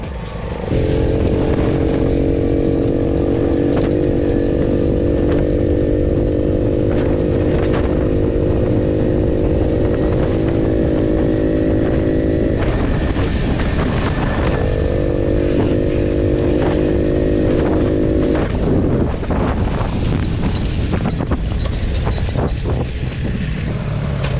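A Delta 50cc moped engine drones steadily at a constant pitch, briefly dipping and returning as it rides along, loud and close with no talking.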